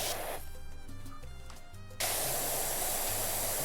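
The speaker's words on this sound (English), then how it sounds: "spraying down a generator with this much water" A pressure washer jet in PowerWash Simulator 2 blasts water onto a generator, a loud steady hiss that swells even stronger halfway through, with game music tones underneath and no talking.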